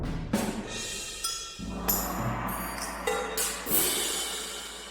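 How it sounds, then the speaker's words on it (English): A cymbal from BBC Symphony Orchestra's untuned percussion section swells repeatedly, each hit rising in loudness and brightness, layered over a dark low drone; moderately quiet with several overlapping washes. "Basically, all I'm doing is I'm using that cymbal and I'm swelling it up."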